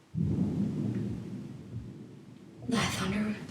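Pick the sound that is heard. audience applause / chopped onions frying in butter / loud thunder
loud thunder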